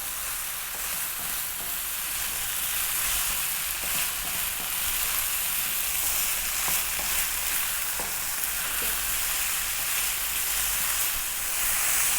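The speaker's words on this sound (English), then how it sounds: "We want to fry our rice now." Rice fries over high heat in a pan for a vegan pumpkin rice, producing a loud, continuous broad hiss with faint stirring scrapes underneath.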